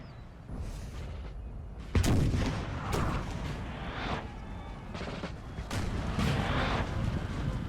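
Howitzers and a 6-pounder cannon fire in a Napoleon Total War battle, a string of sharp booming shots with rumbling tails, some near and some distant, over a battlefield din.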